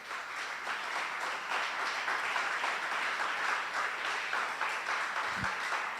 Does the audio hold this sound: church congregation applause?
yes